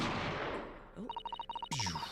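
A gunshot sound effect from The Great Ace Attorney 2 video game: a sharp burst followed by rapid pulsing beeps and a second punchy hit, fairly quiet with game music fading underneath.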